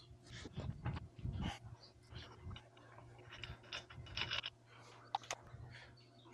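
Lug nuts come off a Honda Talon R wheel with a 41mm socket, giving bursts of metallic ratcheting and clicking in an uneven, close-up rhythm, with short pauses and a sharp clink near the end.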